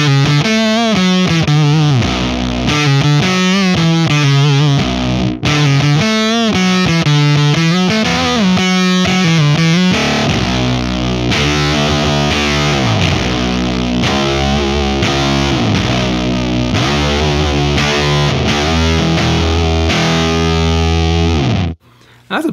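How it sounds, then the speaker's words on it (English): Electric guitar on its neck humbucker with the tone rolled fully off, run through a Doomcaster boost into a Hypercoven distortion pedal, giving a loud, thick, continuous distorted riff of sliding, sustained notes and chords. "So that's the Doomcaster into the Hypercoven boosting the signal, but we're also using the neck humbucker with the tone rolled all the way off."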